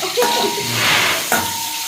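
Loud sizzling of spices frying in hot oil for a prawn curry in a Jaffna home kitchen, with a couple of brief sharp clicks like a utensil stirring the pan.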